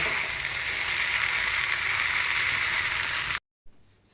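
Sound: leftover roti pieces frying in a pan

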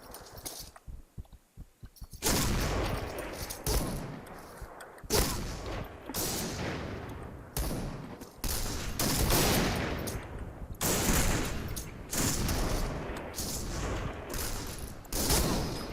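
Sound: gunfire in the video game Point Blank, Barrett M82A1 rifle

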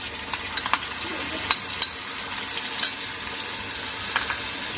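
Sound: spice paste frying in oil

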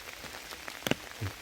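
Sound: rain falling outdoors

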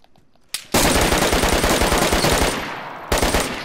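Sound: gunfire from a gun in the video game DayZ

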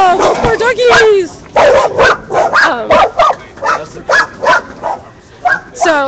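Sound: dogs barking

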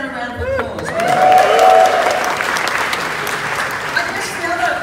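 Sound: audience applause

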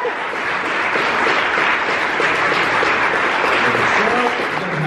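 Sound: applause from the audience

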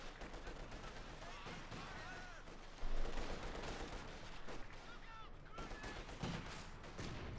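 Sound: grenades and gunfire in video game Company of Heroes 2

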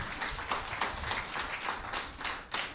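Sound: audience applause

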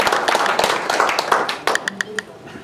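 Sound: audience applause

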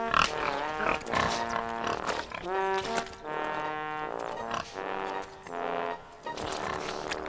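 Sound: pigs grunting while rolling in the mud

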